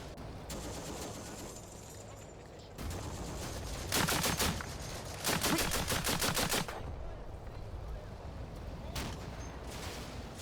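Bursts of Vickers machine-gun fire in the Combat Mission: Afrika Korps war game, with scattered shots early on, then two dense rattling volleys of rapid reports, fairly loud over a steady battlefield background.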